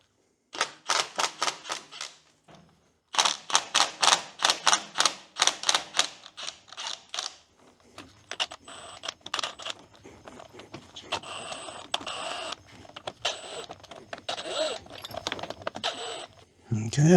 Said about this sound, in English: now we will attempt to get the sensing unit off.